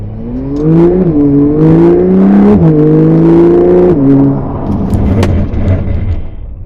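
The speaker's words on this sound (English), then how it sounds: "Maximum power into the brakes until the car is standing." A Porsche on the Hockenheimring track makes an emergency stop. A loud engine tone climbs and then falls sharply as the car brakes hard, and a low idling rumble follows once it comes to a standstill.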